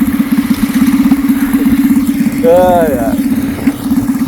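A stationary engine fitted to a motorized skateboard idles close by with a loud, rapid, buzzing put-put that runs steadily throughout, while a man briefly exclaims over it.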